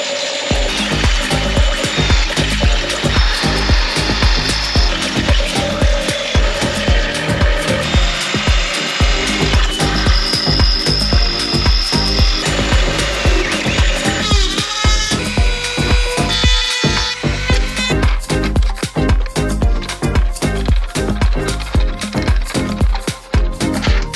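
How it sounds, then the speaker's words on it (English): Loud, steady machine whirring with repeated scraping and grinding bursts as a power drill bores hood-pin holes through a carbon fiber car hood, continuous and close for the whole stretch. "Got our holes here drilled out."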